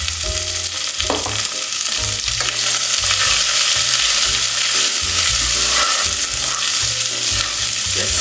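Onion and green onion root stir-frying in a pot for Korean-style borscht: a steady, loud sizzle with repeated scraping stirs throughout, close up and alone with no talking.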